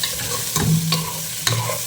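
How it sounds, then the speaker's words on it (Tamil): Raw mango sautéing in oil in a pan, a close, continuous sizzle with a few scraping stirs of a spoon. "ஸோ மாங்காய் கொஞ்சம் எண்ணெயில் கொஞ்சம் அப்படியே வதங்கட்டும்"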